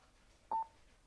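A Freecom 4 intercom gives one short, clear electronic beep as its intercom button is held down for pairing, alone against quiet background hiss.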